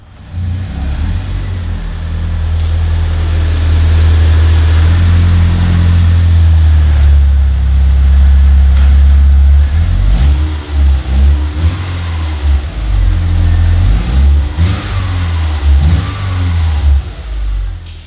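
A Subaru Impreza engine revs loudly and steadily as the car drives into a garage, a close, continuous rumble with uneven surges in the second half.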